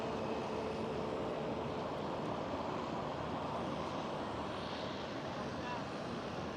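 Jet airliners taxi at Schiphol airport, a constant broad engine roar held at a steady level throughout, heard from a distance with a person talking over it.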